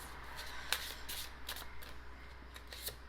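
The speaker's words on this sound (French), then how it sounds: "Je vais aller chercher une carte de plus." Tarot cards are handled and drawn from a deck, giving a few quiet, close papery riffles and flicks against a faint background hum.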